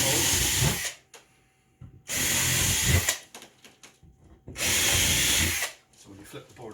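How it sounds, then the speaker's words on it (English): A power drill bores holes through a wooden model railway baseboard in three loud, close bursts of about a second each, separated by quieter pauses with light handling noise. "drill a hole to attach this to the baseboard, drilling through the baseboard"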